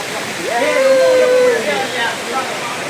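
Uppukalam falls near a tunnel, a steady loud rush of falling water under a person speaking.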